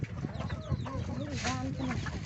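Bantam and laying hens cluck steadily in a farmyard while being fed banana stalk, with several birds close by making overlapping, rising and falling calls, and someone talking faintly underneath.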